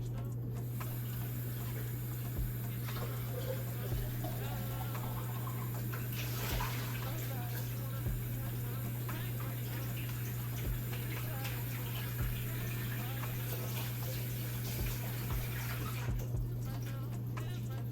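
A cup rinsed under a running tap gives a steady, close, dense wash of splashing water that keeps going without a break, with a faint tick now and then.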